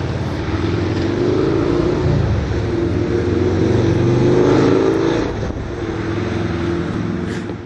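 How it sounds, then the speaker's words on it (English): A loud continuous rumble and roar of a passing Amtrak passenger train, steady and close, with a slight swell in the middle and no voices. "Here comes Amtrak."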